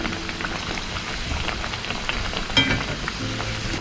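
Parippu vada (masala vada) made crisp with cornflour fries in hot oil, Thattukada style, giving a steady dense sizzle and crackle like light rain, with a brief louder pop near the end.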